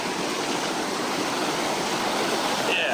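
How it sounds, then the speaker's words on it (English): A rushing woodland stream pours hard over rocks in a steady, loud, broadband wash with no pauses, close at hand and filling the whole scene alone. "I kind of have to yell because the stream is going"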